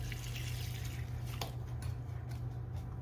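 Liquid poured from a container over cooked asparagus, a steady close trickle and splash lasting several seconds over a low constant hum, with no talking.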